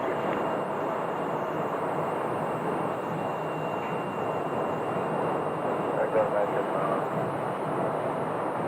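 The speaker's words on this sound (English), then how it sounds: "We have a Southwest landing." A Southwest airliner lands at Phoenix Sky Harbor Airport, its engines a steady, distant broadband roar heard from the ground, continuous and fairly faint throughout, with faint talk in the background.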